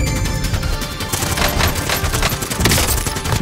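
Rapid, dense gunfire from a kitchen gun in Call of Duty Warzone, a steady loud barrage of overlapping shots that runs without pause for several seconds.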